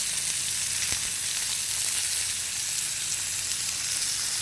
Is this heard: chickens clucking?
no